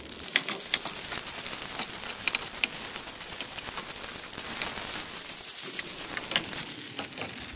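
Fried rice with egg sizzling and crackling in a hot pan as it cooks, with a steady broadband frying hiss and occasional louder pops and scraping stirs, close and alone.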